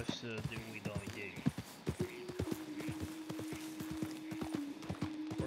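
Horse hooves clip-clop at a steady walking rhythm in Red Dead Redemption 2 Online, close and distinct under continuous talk, with a sustained tonal hum running through much of the clip.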